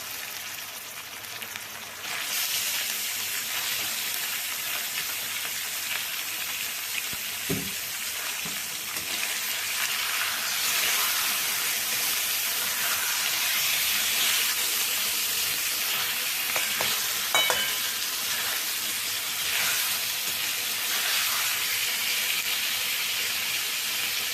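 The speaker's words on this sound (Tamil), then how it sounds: "சிக்கன் வந்து அப்படியே எண்ணெயிலே போட்டு போட்டுடலாம்" Continuous loud hissing sizzle of chicken frying in hot oil, close up, with a few brief knocks partway through.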